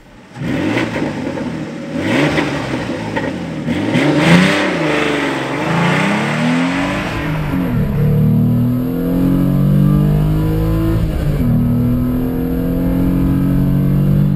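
A Renault Clio V6 engine revs hard and climbs in pitch through several gear changes while accelerating, a loud, close, continuous roar building to a steady high drone.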